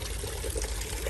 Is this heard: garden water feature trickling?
yes